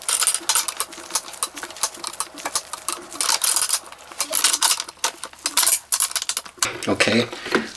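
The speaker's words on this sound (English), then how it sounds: "now tighten this as much as I can." A wrench tightens a bolt on a wheelchair caster, giving rapid metallic clicks, ratcheting and clinks in uneven bursts, close and fairly loud, with brief spoken remarks.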